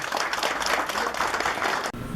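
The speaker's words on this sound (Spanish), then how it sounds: "Entonces demos un fuerte aplauso para este día cultural" Dense, steady applause and clapping from a crowd at a Cofán wedding ceremony in the Amazon, filling nearly the whole stretch before abruptly cutting off near the end.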